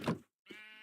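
A Minecraft sheep gives two short bleats a moment apart, close and clear, the second a steadier, more tonal baa.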